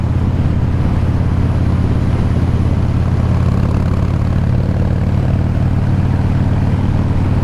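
A 2014 Harley-Davidson Breakout FXSB pulling in third gear from about 50 mph, a steady loud engine drone with constant wind rush close to the rider, no talking.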